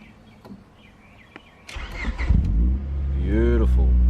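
Honda Prelude engine cranking and catching after an ignition switch replacement, a broadband burst of starter whir rising into a steady idle that stays loud and close, with a person speaking near the end.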